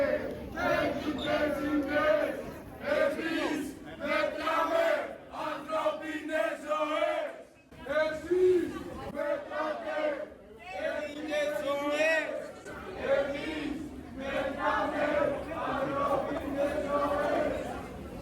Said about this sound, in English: Crowds were pouring out of the metro, all heading toward yet another protest sparked by the tragic train crash.